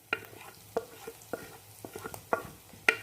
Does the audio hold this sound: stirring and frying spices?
yes